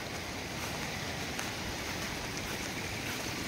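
Floodwater left by heavy rain flows across a farm field, giving an even, continuous rushing wash of water that stays fairly faint and unbroken.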